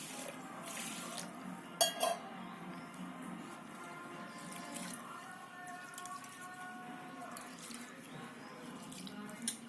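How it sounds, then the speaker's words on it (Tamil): Rice is rinsed twice in a vessel with water, giving soft sloshing and trickling with a few sharper clinks and splashes. The sounds are quiet and close, with no talk over them. "ஒரு 2 டைம் நல்லா தண்ணி ஊற்றி அலசிக்கிடலாம்."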